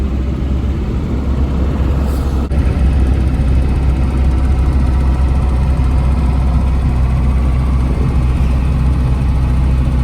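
Steady, loud engine drone and road roar from inside a modified Ambassador Mark 4 car fitted with a Matador engine, cruising along the Coimbatore–Palakkad highway, continuous with no talk.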